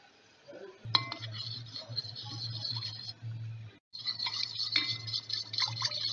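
A spoon stirs vanilla custard powder into milk in a metal vessel for mango falooda, giving a steady run of scraping and light clinks that pauses briefly partway through, then resumes just as busily.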